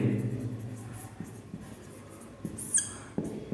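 A teacher writes on a board during a physics class, faint scratchy strokes and taps in short bursts over a quiet room, with a brief squeak near the end.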